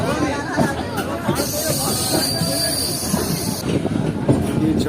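A train moving near Jampi railway station in Pakistan, its wagons rumbling past close by with steady clatter and high-pitched wheel squeal, while people talk underneath.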